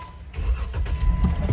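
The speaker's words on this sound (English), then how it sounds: "Let me start the car" A car engine starts up close by, with a short run of cranking bursts that catch into a low, rumbling idle within about a second and a half.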